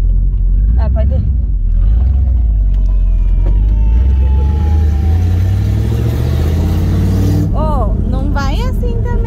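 A Ford Galaxie V8 revs repeatedly with the window down, its exhaust roaring up and falling back, with loud excited voices talking and shouting over it.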